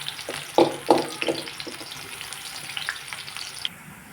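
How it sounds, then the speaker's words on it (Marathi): Soybeans deep-frying in hot oil on a gas flame give off a steady crackling sizzle, with a few louder bursts early on that ease into a softer, even bubbling. "आपले जे सोयाबीन ते एकदम क्रिस्पी तळले जातात"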